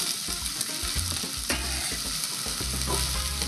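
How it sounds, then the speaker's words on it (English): Onions going into a pot of hot oil for pumpkin soup, a loud close sizzle with spatula stirring and scraping knocks across the pan, steady throughout and unaccompanied by speech. "now we're gonna add in our onions"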